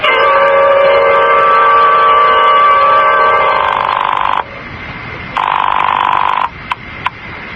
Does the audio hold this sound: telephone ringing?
yes